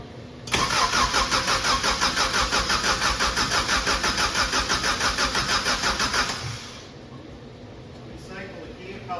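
A Subaru engine fitted in a VW Bus cranks over on its starter with a steady, loud rhythmic chugging for about six seconds, then stops, leaving quiet room tone with faint voices.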